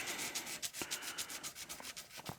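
Hand sanding a buster sword blade in a crosshatch pattern, a steady run of short, dry rubbing strokes repeating in quick rhythm, close and fairly quiet with no talk.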